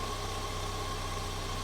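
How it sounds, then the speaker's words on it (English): An early Bosch CIS fuel-injected car engine idling lean, a steady low hum and rumble with a faint whine above it, even and unbroken throughout. "Now as I increase pressure, the engine's going to start leaning out."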